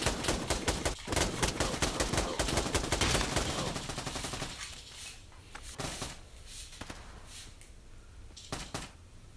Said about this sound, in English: Someone shot right by my fucking ear.